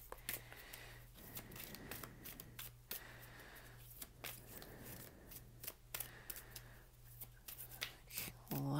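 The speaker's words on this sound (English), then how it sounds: "A lot of shuffling for this one," Repeated crisp riffling and slapping of tarot cards being shuffled, in quick bursts with short pauses, close up and fairly quiet.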